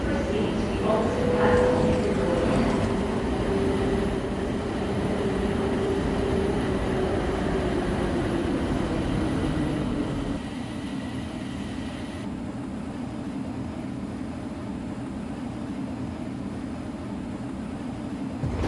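Automated airport transit train in a Roblox game, rumbling steadily as it approaches the final terminal stop, a loud continuous rolling drone that eases slightly partway through, with an announcement voice over it.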